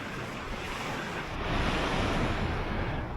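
Surf breaking steadily on the beach at Hel, Poland, a continuous broad wash of waves swelling louder partway through, mixed with gusty wind buffeting the microphone.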